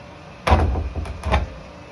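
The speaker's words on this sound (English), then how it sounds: "I'm going to print the plastic one so it stops scraping the door like this" A household door scrapes along the floor without a stopper, making a few short, fairly loud rasping drags in close succession, with no talking.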